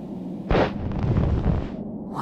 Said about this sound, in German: Wow, was für eine Explosion.